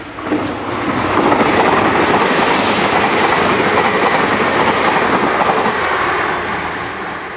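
A train runs through Dawlish Warren station on the Great Western main line, a loud, sustained rumble and rush of wheels on rails that swells and holds close throughout.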